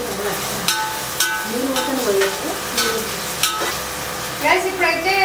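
Onions frying in a pan with spoon stirring over a steady sizzle; scraping strokes repeat throughout, close and clear, with no speech.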